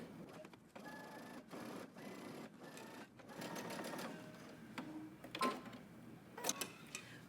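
A sewing machine runs continuously stitching up the side seam of Simplicity 8655 pants, a busy whirring mechanical chatter with brief pauses and a few clicks, close and steady.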